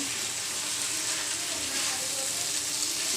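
Fried okra goes into a pan of masala and sizzles. A steady, close, loud frying hiss runs unbroken throughout.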